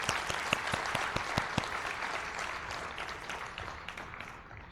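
Applause from an audience at a talk on the vision and inception of Chinmaya Vishwavidyapeeth, a steady wash of clapping with a few sharp, close claps standing out early, gradually thinning toward the end.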